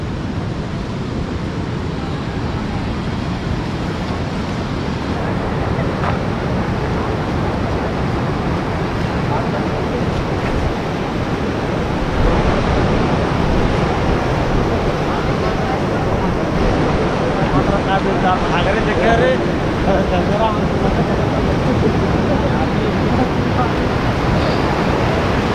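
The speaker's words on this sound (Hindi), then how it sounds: "इतनी तेज लहर।" The Shivnath river near Bhilai, Durg, is in flood, a steady loud roar of fast-flowing water and strong waves with wind buffeting the microphone throughout, and a voice speaking over it.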